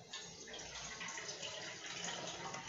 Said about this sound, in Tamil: இன்னும் கொஞ்சம் தண்ணி ஊற்றிப்போம்.